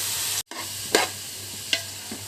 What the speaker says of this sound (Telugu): అందులోనే మష్రూమ్స్ వేసుకోవాలండి కొంచెం దోరగా వేపుకోవాలి